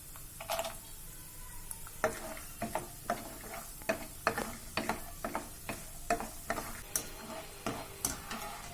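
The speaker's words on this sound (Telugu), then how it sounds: "ఈ పల్లీలు కొద్దిగా వేగిన తర్వాత జీడిపప్పుని కూడా యాడ్ చేసుకొని బాగా వేయించుకోవాలి" Peanuts and cashews frying in hot oil give a steady close sizzle, with a quick run of sharp scraping clicks and ticks as a spoon stirs them around the pan.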